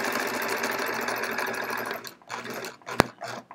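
A sewing machine stitches the border of a sampler quilt. It hums steadily and close for about two seconds, slows to a stop, and then gives a single sharp click.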